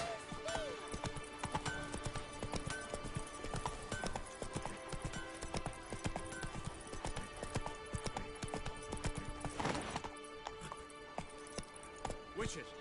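Roach, Geralt's horse in The Witcher 3 video game, trots with a steady clip-clop of hooves under recurring spoken voices and game music.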